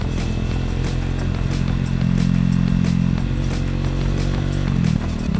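A motorcycle rides through Japanese suburban streets near Hiroshima, its engine droning steadily and close with a low hum that swells slightly mid-ride, mixed with wind rush and light rattling.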